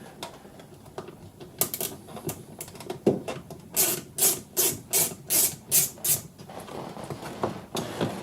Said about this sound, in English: There's a couple of torque screws in here to remove.